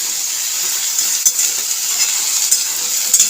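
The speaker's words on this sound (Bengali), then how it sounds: "পটলটা আস্তে আস্তে ভাজা হোক" Sliced pointed gourd frying in a pan on a home gas stove, a steady bright sizzle with a few sharp clinks of a spatula against the pan, close and continuous with no talk.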